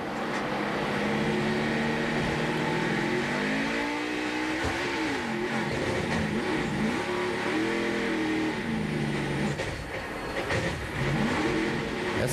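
NASCAR Nationwide Series race car at Texas pulling away from a pit stop, engine revving hard and loud with rising and falling pitch as it accelerates through gears, close and continuous.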